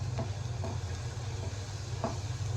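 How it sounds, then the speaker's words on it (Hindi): Two chopped garlic cloves lightly frying in a tablespoon of oil for a chicken kofta stir fry: a steady, soft sizzle with a few faint stirring scrapes, close up and without voices. "हल्का सा फ्राई करेंगे इसको।"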